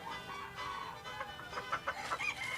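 Egg-laying chickens on an old Tennessee Valley homestead cluck in short, fairly faint bursts over a steady background hiss.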